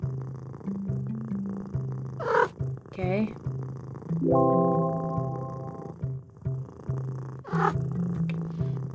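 Cats purr in the puzzle video game A Little to the Left, a steady low rumbling purr running throughout with short chirping cat sounds, while a person talks over it briefly.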